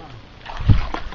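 A person drops into cold water with a single heavy splash and slosh, close by, following a little indistinct speech.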